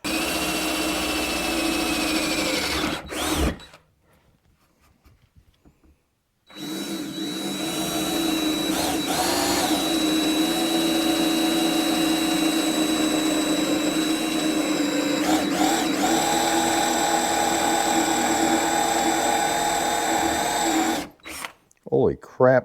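A power drill bores into hard wood during an epoxy resin project with a loud, steady whine, stops briefly, then whirs again for a long stretch, with a faint voice now and then.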